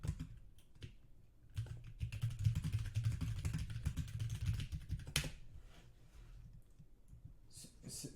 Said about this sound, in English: we can type in any message here.